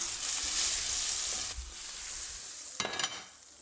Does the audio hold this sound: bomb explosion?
no